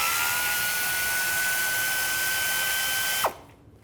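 A power tool spins a bolt out with a 10mm socket on a 2000-2006 Chevy Tahoe, a steady close whine with a faint tone that holds for about three seconds, then drops away abruptly.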